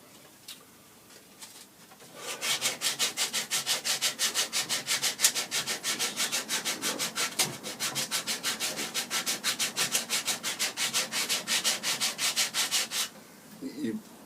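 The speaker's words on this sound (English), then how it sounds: "It's nice, a little bit of sandpaper on there now." Rapid, even strokes of sandpaper on a long wooden walking stick start after a quiet moment and keep a quick, regular rasping rhythm for about ten seconds, close up, then stop abruptly.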